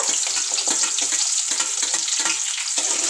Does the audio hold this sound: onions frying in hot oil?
yes